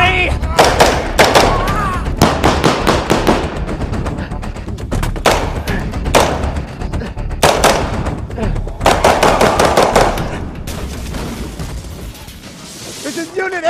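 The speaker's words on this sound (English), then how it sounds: "Shots fired! Shots fired! I have an officer down!" Blank gunshots on a film set crack in rapid, loud volleys, with several clustered bursts and pauses as actors shout in between.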